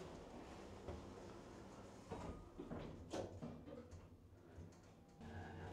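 Lift doors slide along their track in a building in Blackpool, a faint rumbling glide with soft clunks, heard alone at low level.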